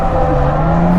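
A highly modified drift car's engine drones steadily under throttle, loud and close, as a continuous dense roar with no talking over it.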